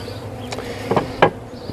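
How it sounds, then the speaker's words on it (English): A low, steady buzzing hum of many honey bees inside a shipping package, with a few louder bursts and rustles rising briefly above the drone. "The sound of the bees is intimidating,"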